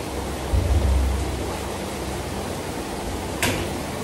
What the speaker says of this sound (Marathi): जोरात पाऊस यायला सुरुवात झालेली आहे